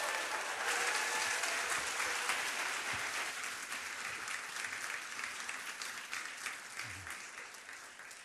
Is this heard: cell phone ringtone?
no